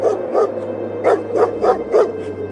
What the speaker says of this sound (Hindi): गांव के कुत्ते भौंकने लगे